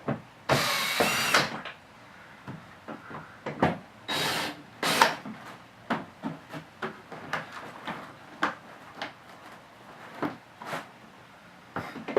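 Screws being loosened and removed from the dashboard of a BMW X7, heard as a close series of short clicks, ratchet bursts and small knocks with a few louder scraping rasps, no talking.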